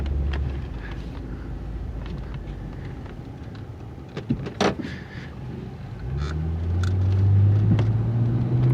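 An older car's engine running while driving, a steady low rumble with road and wind noise, a few clicks and knocks partway through, then the engine note rising and droning louder toward the end.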